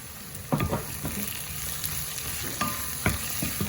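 A curry of potato and drumstick is stirred in a pan while it fries, giving a soft steady sizzle broken by a few scraping strokes of a spoon, quiet and close with no voices.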